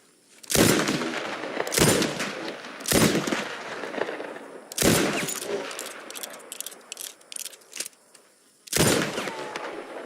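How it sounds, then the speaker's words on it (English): Revolver shots fired at targets during training, five loud sharp cracks spaced irregularly over several seconds with short ringing tails, plus a burst of faint clicks and rattles between the later shots. "I picked up the revolver from the table and took my stance. I followed every instruction. Feet planted, shoulders steady, breath controlled. I pulled the trigger."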